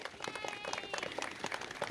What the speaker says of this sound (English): if we can turn around and give them a round of applause